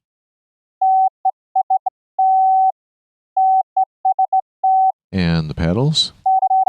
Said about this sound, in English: On the left channel, we have Morse code, which is going to the straight key.